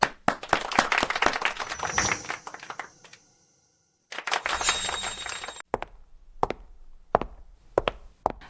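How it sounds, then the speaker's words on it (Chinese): Office staff clap to welcome a new assistant, first a brisk burst of group clapping, then a brief silence, another short burst, and finally a few scattered, sharp individual claps. "大家掌声欢迎！"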